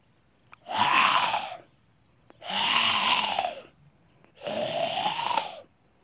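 A voice imitates a tiger during a children's story, three rough, breathy growling roars of about a second each, separated by short gaps, moderately loud and close.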